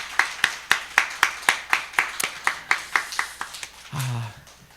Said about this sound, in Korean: 하나님 앞에 감사와 영광의 박수를 올려드리도록 하겠습니다